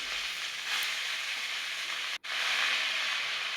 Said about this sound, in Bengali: লাল লাল হয়ে আসলে এবার শাকগুলো দিয়ে দিচ্ছে।